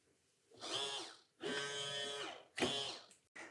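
An RC Jeep's large steering servo motor running on a 2S battery at about 7.4 volts, whining in three distinct strained bursts with short pauses between, close and clear.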